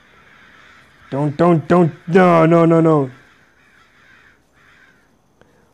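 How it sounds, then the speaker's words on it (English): Crows caw in the Sinister Edge horror video game: a quick run of three sharp harsh calls followed by a longer drawn-out caw, loud and close, with faint ambience before and after. "Crows, crows, crows,"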